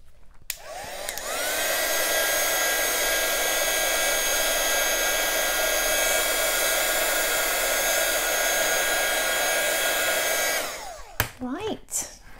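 A hair dryer blows on a freshly painted canvas, switching on to a steady, loud whoosh held for about nine seconds before cutting off, followed by a few faint handling knocks.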